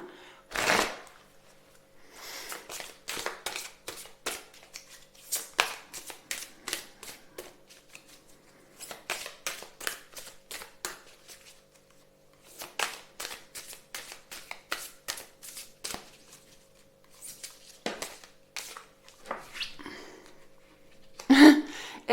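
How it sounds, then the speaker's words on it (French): A deck of oracle cards is shuffled and drawn in several quick papery bursts of riffling and flicking, separated by short pauses, close and fairly clear. "On va aller prendre une carte de l'oracle Lubelline."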